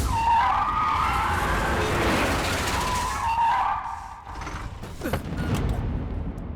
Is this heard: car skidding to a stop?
yes